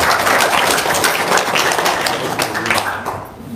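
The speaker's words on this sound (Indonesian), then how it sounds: "Tepuk tangan dulu untuk Haji Marko." Audience members clap together for a speaker at an Indonesian talk. The loud, dense clapping is close and continuous, then begins to fade at the end.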